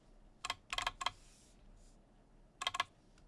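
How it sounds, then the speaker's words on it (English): Mechanical keyboard fitted with Purple Dawn switches, a Class65 v3 by MM Studio, typing in double click mode: two quick bursts of sharp, crisp clacks with doubled clicks, close and alone over a quiet room. "So you can hear it has double clicks."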